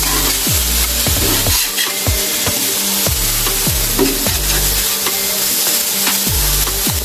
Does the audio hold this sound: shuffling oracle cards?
no